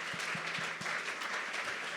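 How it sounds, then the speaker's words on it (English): A pub-talk audience applauds steadily for a couple of seconds, a dense wash of claps with some distinct nearby hand claps, no voices over it. "So how about a round of applause for Scott and"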